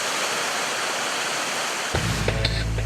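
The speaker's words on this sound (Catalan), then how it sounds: "Al peu de la cascada hi ha gent que contempla l'espectacle del salt de l'aigua." Roar of the tallest waterfall in Galicia, a dense, steady rush of falling water heard close, with a deeper rumble joining near the end.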